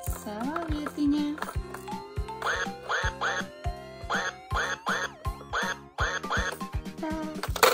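A musical toy car plays a bright jingle with repeated quacking toy duck sounds layered over the tune, rhythmic and close, during a children's color and animal shape-sorting game.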